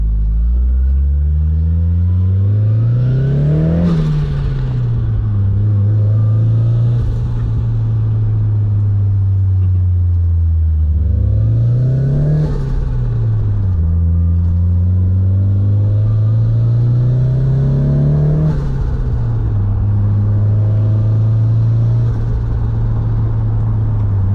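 A Nissan 240SX with a CA18DET engine drives and revs, its steady engine drone climbing in repeated pulls that rise and drop back, loud and close throughout with no talk.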